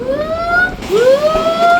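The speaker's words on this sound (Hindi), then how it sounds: "ये क्या डिजास्टर मैनेजमेंट का सायरन चला रहा है?" A loud disaster-management siren wails, rising and falling twice, each sweep climbing in pitch, close and continuous with no voices.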